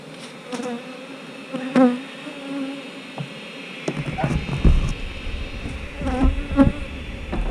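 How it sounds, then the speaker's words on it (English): Honey bees on a hive frame buzz close by in a steady drone, with someone talking over them and occasional handling bumps. "I don't want to shake these bees off this frame"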